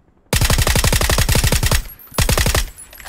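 Rapid bursts of automatic gunfire in PUBG, loud and close: a long run of evenly spaced shots, a short pause, then a second shorter burst before silence.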